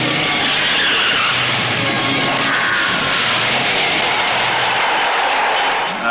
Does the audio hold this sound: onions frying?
no